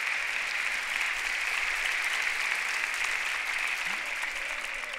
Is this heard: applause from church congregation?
yes